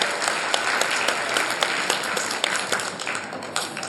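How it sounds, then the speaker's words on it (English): Audience applause for a school's top science-stream exam scorer at a prize ceremony, a dense, steady clapping from a crowd filling the whole stretch. "Huge round of applause."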